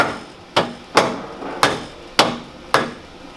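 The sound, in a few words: dead blow hammer gently tapping winch bumper on Land Rover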